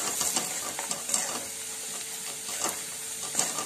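A spice mixture is stirred in a hot frying pan, giving a soft, steady sizzle broken by several scraping stirs of the spoon, close and quiet, with no talking.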